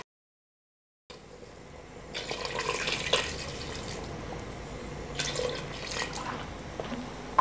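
Water pours steadily into a pressure cooker holding beef for pulao, a continuous splashing gush with dripping, heard alone and fairly close after a moment of silence.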